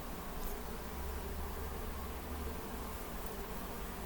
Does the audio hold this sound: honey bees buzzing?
yes